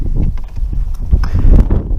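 Strong wind from a snowstorm gusts hard against the microphone, producing loud, buffeting rumbles that surge and fade irregularly throughout.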